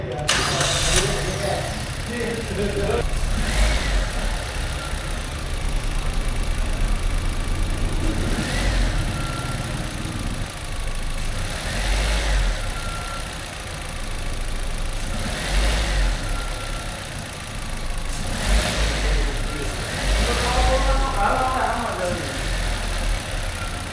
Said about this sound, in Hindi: तो चलिए स्टार्ट करते हैं इंजन एंड सुनते हैं इंजन नॉइस।